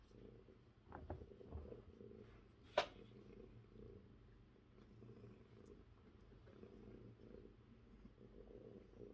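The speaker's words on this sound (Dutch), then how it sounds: "Kun je zo lekker spinnen" A domestic cat purring softly and steadily close by, a low continuous rumble with one brief sharper sound partway through.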